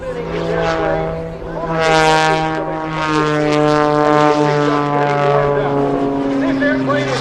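A one-of-a-kind F-2B-11 aerobatic propeller plane flown by Michael Wiskus at the 2017 Wings Over Houston Air Show drones loudly as it rolls and spins, its buzzing engine note rising and falling in pitch.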